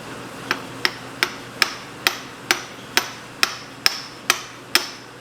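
Hammer taps seating a locker and C-clip into a Ford 8.8 rear end: about twelve sharp metallic knocks at a steady, unhurried rhythm, close and distinct, with no talking.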